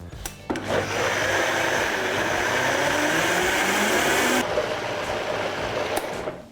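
A blender whirs at high speed through pancake batter made with ground flax seeds and sesame oil, a loud steady close whine lasting several seconds, then shifting to a lower drone as it winds down.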